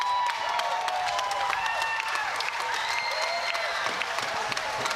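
A crowd in the stands applauds and cheers after a long jump at the 2019 Pacific Games in Samoa, with steady clapping and scattered whistles and shouts sustained throughout at moderate distance.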